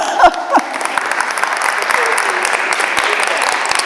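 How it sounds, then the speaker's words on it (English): Audience applause at a village garden club talk, a sustained wash of clapping from a roomful of people, with a couple of brief voices heard near the start before the clapping settles. "I'd like to give you an applause."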